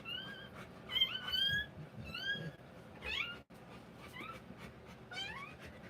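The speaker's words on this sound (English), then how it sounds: "That was just the puppy being noisy." A newborn Rottweiler puppy gives repeated thin, high whimpers and squeaks during a live birth, close and fairly clear, in short bursts with pauses and soft breathing or panting beneath.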